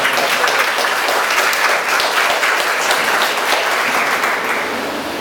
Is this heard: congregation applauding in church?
yes